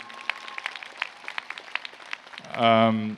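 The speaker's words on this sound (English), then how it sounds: "A round of applause for yourselves and your families." Graduates and their families at a university commencement break into applause, a thick burst of clapping swelling up near the end after a stretch of scattered, sparse claps.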